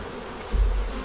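Honey bees buzz at an open hive, a brief close drone over a low rumble that swells halfway through.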